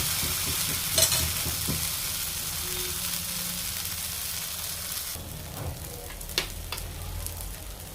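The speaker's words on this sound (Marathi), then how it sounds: "डोशाचा तवा चांगला तापला की त्यावर तूप किंवा बटर टाकायचं आहे आणि जो डोसा आहे तो पसरवून घ्यायचा आहे" Dosa batter sizzles on a hot griddle greased with ghee or butter, a steady broadband fry hiss throughout with a few scraping clicks as it is spread, no voices.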